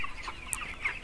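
Chickens and a rooster on a poultry farm give faint, scattered clucks over a steady background hum, with one short, sharper call midway.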